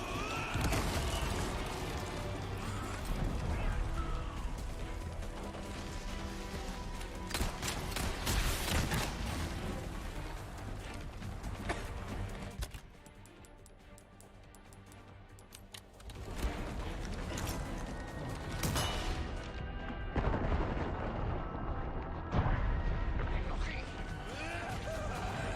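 A grenade blasts in the Resident Evil 4 Remake Separate Ways campaign on Hardcore difficulty, buried in a dense, loud wall of game combat noise with crashes and impacts, briefly easing mid-clip before the chaos resumes.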